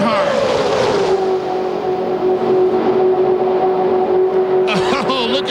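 IROC race cars at Daytona in the 1998 race roar past in a loud, sustained engine drone that holds a steady pitch throughout, with a voice cutting in briefly near the end.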